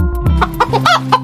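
Chickens at a poultry farm cluck in a rapid, close-up series of short, loud calls with no speech over them.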